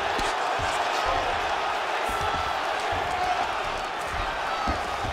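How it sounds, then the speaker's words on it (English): Roaring arena crowd in EA Sports UFC 5 swelling steadily as two fighters get back to their feet after grappling, a dense continuous cheer with no words over it. "huge pop from the crowd as the fighters get back up to their feet"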